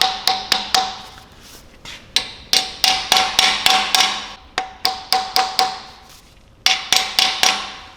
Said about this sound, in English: now I'm going to tap the crankshaft backward and forward, so to be sure that the axial bearing is going to sit up properly on its place